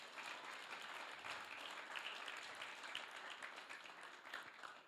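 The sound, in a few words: congregation applause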